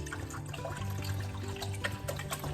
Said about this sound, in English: I'm going to pour, this is 16 ounces of water